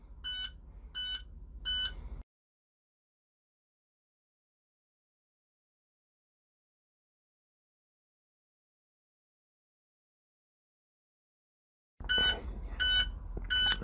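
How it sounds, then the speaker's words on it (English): A school bus low air pressure warning alarm sounds three short repeating electronic beeps at the start during an air brake test, then a long silence, and the same beeping pattern returns near the end. "There's the low pressure light and alarm."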